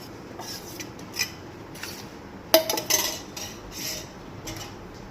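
Batter for steamed hilsa is mixed in a bowl, with soft scraping and a few sharp clinks of a spoon against the dish, one louder clatter in the middle, otherwise quiet and close.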